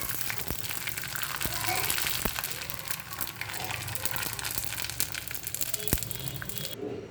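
Rava vadiyalu (semolina fritters) frying in hot oil, a steady dense crackling sizzle that holds for several seconds with occasional sharper pops, close and moderately loud, with no voices over it.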